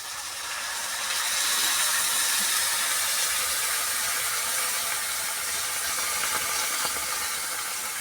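Water poured into a hot pan of katla fish curry with potatoes and green tomatoes gives a loud, steady sizzling hiss that holds unbroken for about eight seconds.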